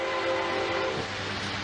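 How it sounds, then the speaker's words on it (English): A small blue toy train plays back from a video, a steady mechanical rumble with a sustained horn-like tone over it, moderately loud with no speech. "they're showing a little train go on the tracks"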